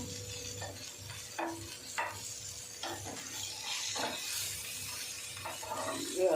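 Fresh bombil (Bombay duck) fish fry in a pan with a little oil, giving a steady soft sizzle, while being flipped with a few scraping and clinking touches of a utensil against the pan.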